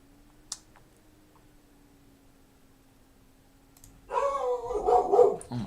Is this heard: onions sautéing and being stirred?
no